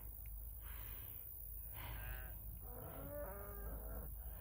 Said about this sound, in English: The cows are moving into their new field.